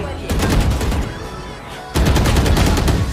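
Rapid automatic gunfire in the shooter video game Valorant, two loud, close bursts of fast shots separated by a short pause.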